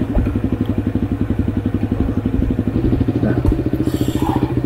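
A small dirt bike engine from a Minecraft mod idles with a steady, buzzing low putter throughout, near and loud, with no voices over it.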